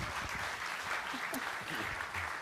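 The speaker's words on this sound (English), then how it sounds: "please give our two guests a warm round of applause." Warm, steady audience applause fills a conference hall at a sustainable tourism investment forum in Africa, dense continuous clapping that carries on for the whole stretch without talk on top.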